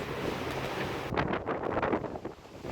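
Wind buffets the microphone aboard a sailing boat, a rough rushing noise that swells into stronger gusty bursts partway through, with faint water motion underneath.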